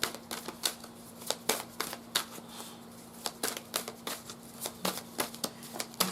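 A Sacred Travelers oracle card deck is shuffled nearby, a run of sharp, regular card snaps and flicks over a faint steady hum, with no voices.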